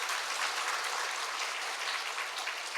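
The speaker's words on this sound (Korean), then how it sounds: "박수로 하나님께 영광을 올려드립니다." A church congregation claps together during a worship service, a dense, loud and continuous wash of applause lasting a few seconds with no talking over it.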